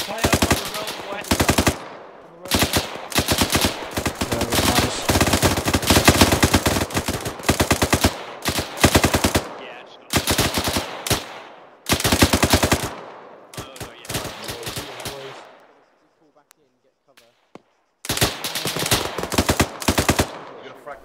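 Heavy automatic gunfire from the military shooter ArmA 3, dense bursts of rapid shots in long stretches with brief pauses, loud and close, with a short quiet gap before firing resumes.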